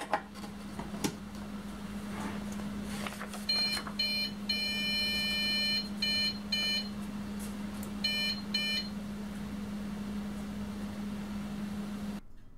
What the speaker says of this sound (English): so you heard those series of beeps? That means that the bin file and LCD file were updated automatically.